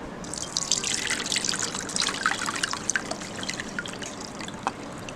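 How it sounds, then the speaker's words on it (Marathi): Sol kadhi, a Goan kokum and coconut drink flavoured with garlic and chilli, being strained: a steady close trickle and patter of liquid pouring through a strainer, with scattered drips throughout and no speech. "आता आपण ही सोलकढी गाळून घेऊया"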